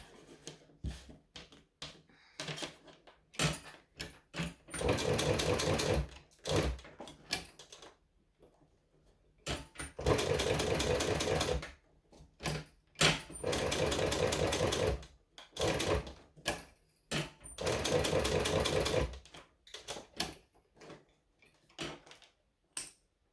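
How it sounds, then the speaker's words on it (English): A sewing machine stitches a leather strap in repeated bursts of rapid mechanical clatter, each run lasting a couple of seconds, separated by quieter pauses with small handling clicks; close and fairly loud, with no talking. "I've essentially done 16 minutes of just sewing"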